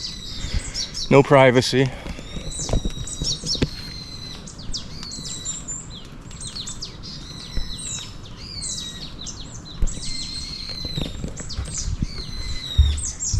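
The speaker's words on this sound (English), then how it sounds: "The birds are singing, so hopefully that means that there's not going to be rain for a little while." Birds chirp and tweet outdoors in steady, overlapping calls throughout, moderately near, with a short burst of louder activity early on and brief speech over the birdsong.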